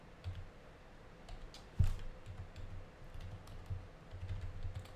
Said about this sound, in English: I can come in here and start typing like hello